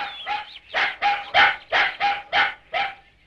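A hunting dog barks loudly and close in a steady run of about eight sharp, evenly spaced barks, with no voices over it.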